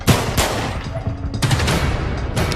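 Gunshots in a reenactment, with several sharp loud bangs in quick succession, a pause, then more shots. No talking is heard.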